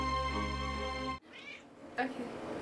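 A house cat gives a couple of short meows after loud voices stop abruptly, the calls close and moderately loud in a quiet indoor room.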